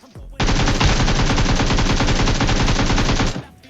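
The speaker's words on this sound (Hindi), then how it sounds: "यहाँ पे मेरे पे फायर आता है बंदे का" Enemy gunfire in the battle-royale game BGMI: a loud, sustained burst of rapid automatic fire that runs unbroken for about three seconds and then cuts off.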